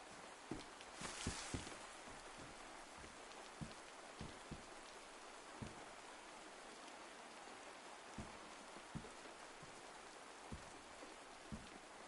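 Rain falling in the DayZ Livonia video game, a soft steady hiss of rainfall with scattered sharper drop impacts throughout, fairly faint and without speech.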